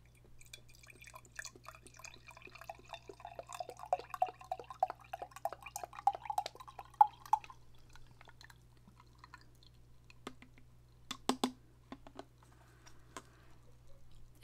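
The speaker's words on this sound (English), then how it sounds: "And then you just pour straight from the spout." Breast milk pours from the spout of a Willow breast pump container into a baby bottle, a faint close trickle with rising pitch as the bottle fills, followed by a few light taps.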